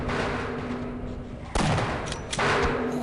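Gunfire crackles in the shooter Half-Life, a dense burst of loud shots giving way to a brief quieter gap before more sharp blasts cut in near the end.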